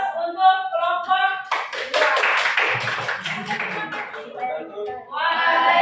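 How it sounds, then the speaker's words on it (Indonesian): Group of students applauding in a classroom during a hydroponics lettuce presentation, a burst of clapping from about 1.5 to 5 seconds between stretches of talk. "Oke, kita aplaus untuk kelompok"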